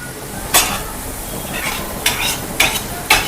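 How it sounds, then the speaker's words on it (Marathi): Curry leaves and chili sauté in a hot pan for Maharashtrian tomato chutney, a soft steady sizzle broken by four sharp scraping stirs of a spoon against the pan, close and without speech. "बघा कढीपत्ता आणि मिरची पण छान आता याच्यात आपल्याला परतवून घ्यायची आहे"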